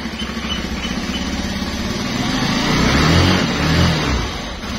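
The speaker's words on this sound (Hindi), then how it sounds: "मोटरसाइकिल गर्म करना पड़ेगा ना।" A motorcycle engine idles and warms up on a cold early morning, its steady low rumble close and continuous, swelling slightly in the middle as the revs rise, with no talk over it.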